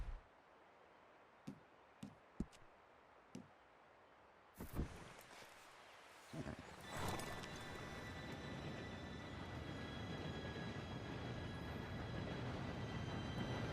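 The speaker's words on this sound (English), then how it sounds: "Train should be here any minute now." In Red Dead Redemption 2, a train approaches: a few faint knocks, then a rising rumble that swells into a loud, sustained rolling roar of wheels and carriages.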